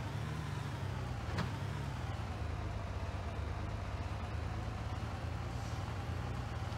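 A car driving in the Far Cry video game, its steady low engine drone running continuously and fairly quietly, with no voices over it.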